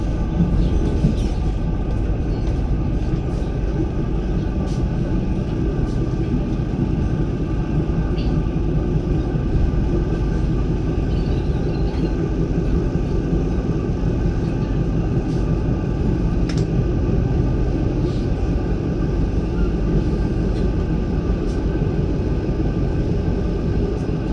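The Menoreh economy passenger train runs on its rails, a continuous loud rumble of wheels and carriage that stays steady and close for the whole stretch, with no clear talking.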